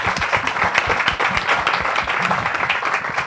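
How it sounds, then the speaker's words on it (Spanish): A room full of people applauds steadily, a dense, even patter of clapping lasting the whole stretch. "Un aplauso para su compañero"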